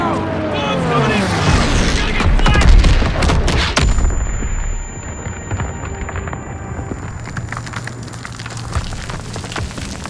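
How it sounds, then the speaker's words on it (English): In the Call of Duty WW2 game, wartime gunfire crackles amid heavy booming bomb explosions from P-47 air strikes, loud and dense at first and then thinning to scattered shots and distant rumbles, with game voices shouting over it. "P-47s are coming in! Clear out! Bombs coming in!"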